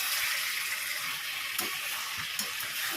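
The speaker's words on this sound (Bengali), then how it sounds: "কষা চলছে মাঝে মাঝে ঢাকা খুলে নাড়ছি" Meat sautéing (kosha) in a pot gives a steady, close sizzle with a faint bubbling hiss, and the stirring spoon clinks lightly twice.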